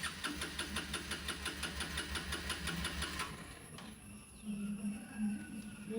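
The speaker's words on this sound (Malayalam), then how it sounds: "അത് കിക്കർ അടിച്ചിട്ടാ സ്റ്റാർട്ട് ആക്കാറ്." A motorbike engine sputters with fast rhythmic firing pulses for a few seconds, then settles into a quieter idle with a low steady hum, fairly close.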